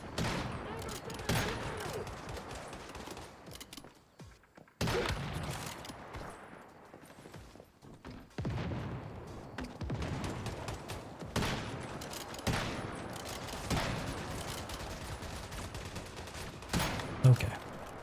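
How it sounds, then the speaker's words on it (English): Gunfire in the Once Human video game comes in several loud bursts and volleys, separated by brief quieter gaps, with low rumbling in between. "When I shoot you in the head, your head is supposed to explode."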